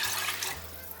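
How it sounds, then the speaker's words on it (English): Water pours steadily into a cooking pot, five cups for rice, a close continuous splashing rush that settles slightly lower partway through. "I'm adding 5 cups of water."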